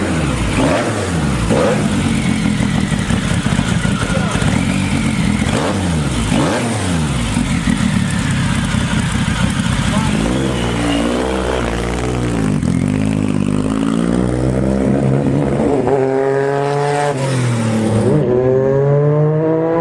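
A homemade race car engine revs hard around a track, loud and close, with rising and falling gear sweeps and repeated accelerations that fill the whole passage without pause.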